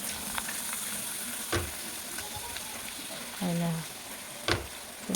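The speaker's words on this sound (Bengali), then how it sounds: "চলে এসেছি পাঁপড় ভাজা করতে" Papad frying in hot oil, a steady close sizzle with a few sharp clatters and scrapes of a utensil, faint talk now and then underneath.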